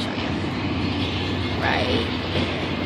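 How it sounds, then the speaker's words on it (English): A train rolls past in a steady, continuous broadband rumble with a brief squeal partway through, close and fairly loud, as someone speaks briefly over it. "You see the train moving? That's the train."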